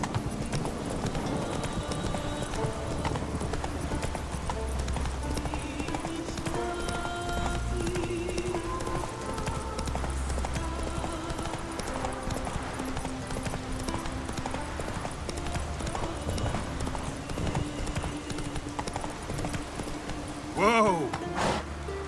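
Hoofbeats of Roach, the horse in The Witcher 3, run in a steady clip-clop over a dense game soundtrack, with a brief whinny near the end.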